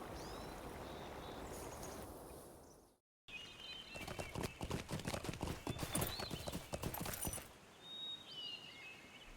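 Horse hooves clip-clop in a quick, steady gallop in the video game Lord of the Rings Online for several seconds after a short break, with ambient rustling and a few faint bird chirps.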